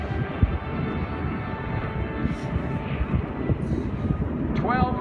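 WWII Corsair fighter plane at an airshow, a steady broad engine roar from a distance that carries on throughout, with crowd and wind noise in the background.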